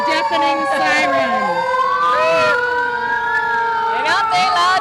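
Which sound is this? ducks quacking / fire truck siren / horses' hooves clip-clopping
fire truck siren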